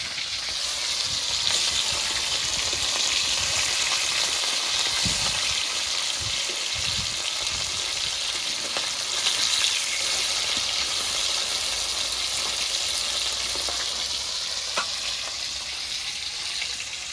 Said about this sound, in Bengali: মাছটা এক পিঠ ভাজা হয়ে গেছে, এখন একটা একটা করে উল্টে নেব